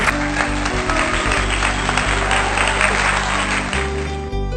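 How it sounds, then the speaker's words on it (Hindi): An audience applauds poet Sakshi at a poetry event, a steady wash of clapping over a low, droning hum that continues throughout. "जोरदार तालियां हो जाए साक्षी के लिए।"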